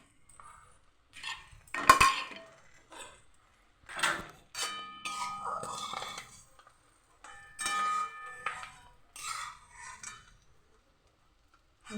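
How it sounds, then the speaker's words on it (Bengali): A plate is handled and utensils clink as fried egg food is lifted from a pan, producing sparse, faint metallic and ceramic taps and scrapes with ringing tones between quiet pauses. "নামানোর জন্য আমি একটা প্লেট নিয়ে নিয়েছি।"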